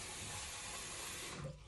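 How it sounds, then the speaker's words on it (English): Tap water running into a cup at a bathroom sink while brushing teeth, a steady soft rushing hiss that cuts off near the end. "you fill some water in a cup."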